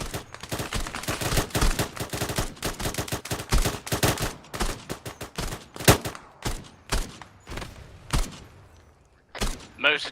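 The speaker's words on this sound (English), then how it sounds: "Keep that gun going, Ryder." A machine gun in Arma 3 fires long, steady automatic bursts, loud and close, with rapid stuttering shots thinning into separate bursts toward the end while voices talk over the action.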